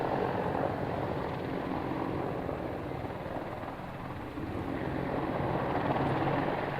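An Apache helicopter at an air show, giving a steady, broad rumbling drone that holds for several seconds with only a slight dip midway, continuous and moderately distant, with no voices.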